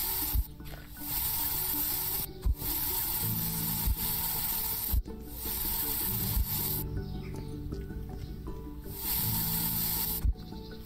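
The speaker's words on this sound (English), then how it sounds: "There's a lot that we need to spray." Weeds are sprayed in the video game I Am Future, a loud steady hissing spray in long bursts separated by short clicks and pauses, over a low game music drone.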